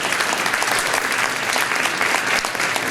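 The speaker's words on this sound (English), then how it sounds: "Let's give her a big round of applause." Steady, dense applause from a school winter concert audience, loud and continuous through the whole moment, with many hands clapping together.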